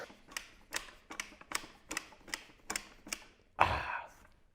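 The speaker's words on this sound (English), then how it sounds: "it also gives you an audible click knowing that it's in there" A series of crisp mechanical clicks at a steady rhythm, about eight in a row, from a REP QuickDraw adjustable dumbbell, followed by a louder, fuller clunk as it locks into place.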